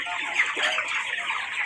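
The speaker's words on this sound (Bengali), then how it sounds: "তোফাজ্জল ভাইয়ের খামারে একটা সমস্যা হয়েছিল, বোর্ডিং অতটা ভালো হয় না হওয়ার কারণে কিছু মুরগি ছোটো বড়ো হয়ে গেছে।" Chickens, 24 days old, chirp and cluck together in a poultry farm shed as a dense, continuous flock chatter at close range.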